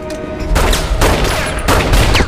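Gunfire in a film shootout: loud, dense bursts of shots and rapid fire crackle in quick succession, with a sharp new volley starting about halfway through.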